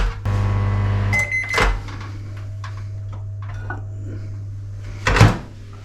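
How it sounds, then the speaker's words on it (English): A microwave hums steadily while heating orange peel for keto Christmas stollen, then stops with a beep, and its door clicks open with a sharp thud near the end. "About a minute in the microwave normally does this."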